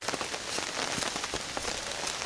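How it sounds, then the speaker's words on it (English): Steady rain falls on an outdoor surface, a dense even patter with scattered sharper drops, constant and fairly close, with no one speaking. "as you can hear, it's still raining"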